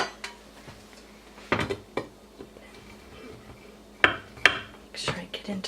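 A metal spatula scrapes and presses hardening crystal cut candy in a pan, giving a few sharp clinks and scrapes spaced irregularly over a quiet, close background.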